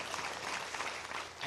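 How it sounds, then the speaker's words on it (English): Audience applause at a seminar held by a New York Chinese organization: a brief, faint, steady patter of clapping from a room full of people, with no voices over it. "let's give a round of applause for Dr."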